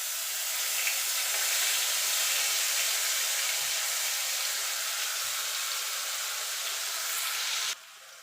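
Onion paste sizzling in hot oil in a pan while fish kalia is cooked, a steady broadband hiss and crackle that holds evenly for about eight seconds before dropping abruptly near the end.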